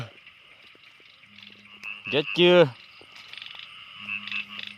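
Frogs croak at night in the early hours in rural Thailand: a loud, rapid ratcheting croak stands out over a continuous chorus of high insect-like trills and low pulsing calls, with a brief voice nearby.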